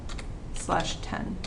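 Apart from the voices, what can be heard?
typing on a computer keyboard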